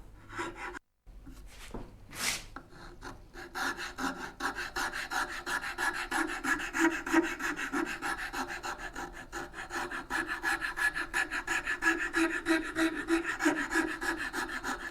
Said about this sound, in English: I'm just glad you guys apparently like the sound of rasps.